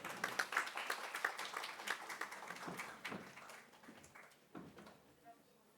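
Scattered audience clapping welcomes a chief guest at a Modi Mahotsav event on sustainability, individual claps audible and fairly faint, thinning out over several seconds while people talk in the background.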